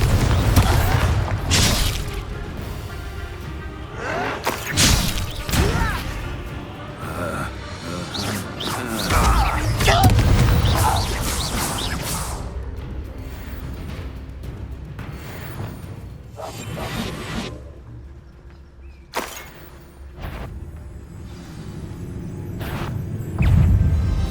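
Spell blasts in the Hogwarts Legacy video game: repeated booming explosions, whooshes and crashing impacts, loud and dense throughout, with no speech over them.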